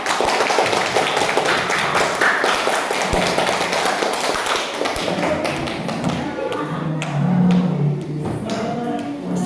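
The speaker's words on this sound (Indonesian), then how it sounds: "Kasih tepuk tangan dulu temannya." Classmates in a school classroom clap for a group coming forward, a ragged burst of hand claps and taps that thins out, with some voices chattering underneath.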